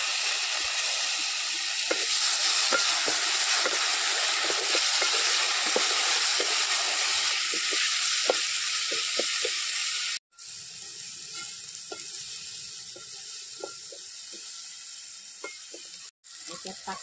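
Onion and tomato frying in a pan for an oyster dish, a loud steady sizzle with scattered stirring clicks and a brief break partway through.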